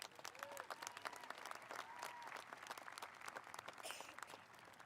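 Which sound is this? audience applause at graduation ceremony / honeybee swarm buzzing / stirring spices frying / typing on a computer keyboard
audience applause at graduation ceremony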